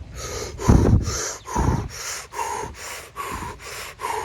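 Intense breath work: a person takes rapid, forceful rhythmic breaths close up, with about eight sharp inhale-exhale cycles, the first few the loudest and deepest.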